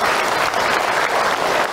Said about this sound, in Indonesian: Tepuk tangan buat bunda yang berkah.